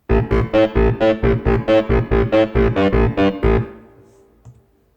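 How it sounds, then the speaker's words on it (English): A punchy FM synth bass from a Korg Volca Modular repeats a quick, even pattern of about fifteen short notes, then stops and fades out, with no voices. "I plan to have the first patch as a FM bass sound"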